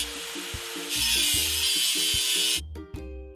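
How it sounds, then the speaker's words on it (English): A rusty machine is scrubbed in a kids truck video game, with a rough, rasping scrubbing effect over a looping synthetic background melody, loudest in the middle before cutting off abruptly. "Let's get rid of the machine's rust."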